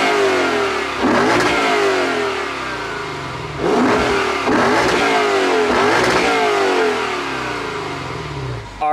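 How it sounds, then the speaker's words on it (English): The V8 engine of a Lexus IS500 F-Sport revs loudly several times, each throaty surge rising and falling back toward a rumbling idle, close by with no talking. "Let's give this thing a couple revs and hear what this V8 sounds like."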